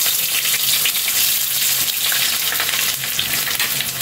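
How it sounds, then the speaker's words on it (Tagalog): White onions sizzle and crackle loudly in hot cooking oil, a steady dense frying hiss that fills the whole stretch, with occasional stirring. "Pa-fry mo natin Kaylee yung sibuyas na puti."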